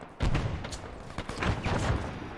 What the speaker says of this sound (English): I'm gonna lob a grenade into one of these trees.